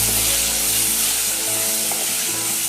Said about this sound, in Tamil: தக்காளி நல்லா மசிகிற அளவுக்கு வதக்கிக்கணும்